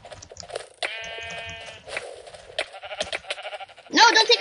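In a Minecraft sheep-capture game on Mineplex, a sheep gives a short tonal bleat near the start. Excited players shout over and around it, and a sharper burst of noise comes at the end.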